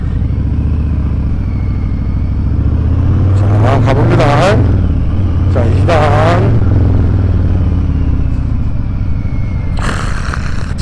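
A Harley-Davidson Breakout 114 fitted with a Jekyll & Hyde muffler rides on a city road, its deep, heavy engine rumble running steadily throughout, with someone talking over it.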